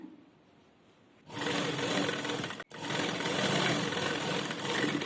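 Sewing machine running steadily while stitching the back piece of a lined jacket, starting abruptly after a quiet moment, a loud, close, continuous whirring drone broken by one brief pause before resuming at full pace.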